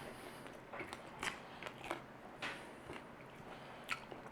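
Crunchy fried noodles bitten and chewed close up, a series of sharp crisp crunches at irregular intervals over several seconds, with no talking.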